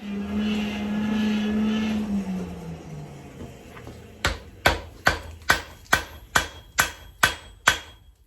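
Hammer eye being forge-welded: a steady roar of forge or torch fades out, then about ten loud, evenly spaced sharp metallic blows ring close by, each with a short decaying clang.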